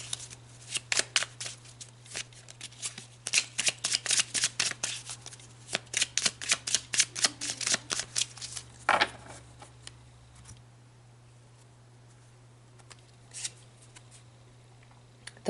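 Tarot cards are shuffled in a rapid series of crisp riffling bursts up close, pausing briefly, then a few scattered flicks before near silence with a faint steady hum underneath.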